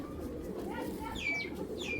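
Old green-breed Giribaz pigeon, about five years old, cooing at close range: a soft low murmur runs throughout, with a few higher bird calls near the end.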